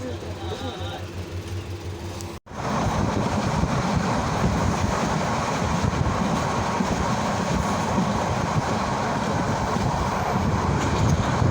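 Mahanagar Express passenger train running on rails, heard from on board as a loud, steady rumble with rhythmic wheel clatter throughout, after a brief dropout near the start.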